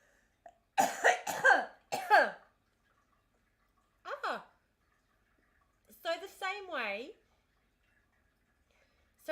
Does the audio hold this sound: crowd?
no